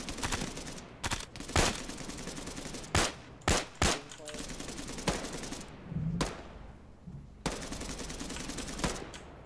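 Bursts of gunfire in ARMA 3, sharp separate shots and short clusters at a moderate distance, spread irregularly over a steady background, with no voices.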